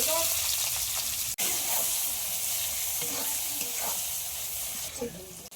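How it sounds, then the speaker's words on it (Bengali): Dried red chillies, bay leaves and onion frying in hot oil for a restaurant-style lentil and chicken curry, with a loud, steady sizzle and some stirring that runs throughout and drops out briefly once. "তেল গরম হয়ে গিয়েছে শুকনো লঙ্কা আর তেজপাতা ফোড়ন দিচ্ছি পেঁয়াজটা দিয়ে দেবো"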